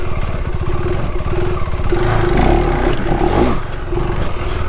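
A KTM 390 Adventure motorcycle engine revs under throttle on landing, a loud, close, rough roar that swells in the middle and then settles back, with a faint clatter and no talking.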